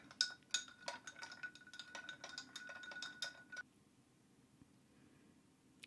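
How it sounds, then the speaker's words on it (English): A spoon clinks rapidly against a glass while stirring a thandai cocktail with angostura bitters, a quick run of bright metallic taps for a few seconds, then quiet. "Give it a mix with a spoon."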